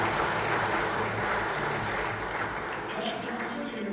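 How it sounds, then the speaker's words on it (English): Conference audience in Moscow applauding, a steady dense wash of clapping with a murmur of voices beneath it. "Let's applaud to each other."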